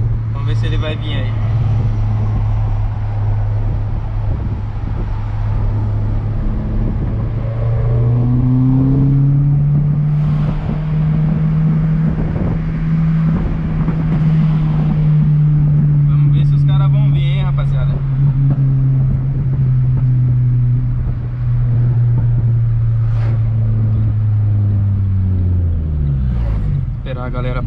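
A Renault Sandero RS accelerates hard nearby, its loud, steady engine drone climbing in pitch, holding high for several seconds, then dropping away at the end.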